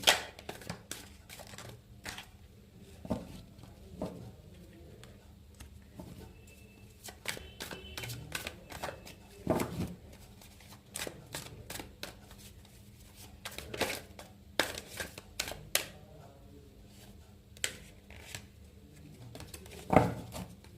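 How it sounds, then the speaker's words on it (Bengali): Cards being handled and picked one at a time in a card reading, faint close rustles and sharp flicks and taps scattered irregularly over a quiet background, with no talking. "চলো একটা একটা করে কার্ড নেবো আমি"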